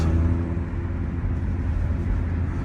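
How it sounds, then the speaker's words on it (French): A Ford Mustang's five-cylinder engine rumbles low and steady at walking pace, a deep continuous drone with no voices over it. "Même quand tu roules au pas comme ça, c'est agréable d'entendre le beau 5 cylindres."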